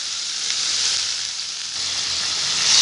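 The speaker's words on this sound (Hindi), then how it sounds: "तो यहाँ पे मैं बारीक कटी हुई चॉप की हुई प्याज डाल दूँगी।" Finely chopped onions hit two tablespoons of hot oil in a pan, producing a loud, steady, close sizzle that continues without a break.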